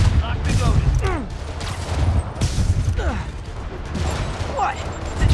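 Rapid bursts of rocket fire and whooshing projectiles in the Marvel's Spider-Man video game, overlapping explosions and mechanical clatter, with a voice speaking between the volleys.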